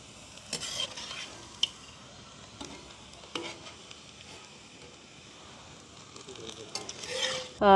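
Garlic frying in a hot oil pan, a steady quiet sizzle broken by occasional stirring scrapes and clinks, ending in a louder burst of crackling.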